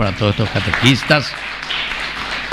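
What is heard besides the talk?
applause for the catechists in church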